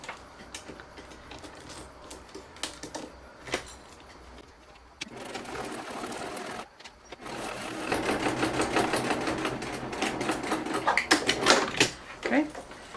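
Sewing machine basting a pocket into place on a conceal-carry purse, rapid mechanical stitching in short bursts and then a longer steady run, close up, with quiet handling noises between.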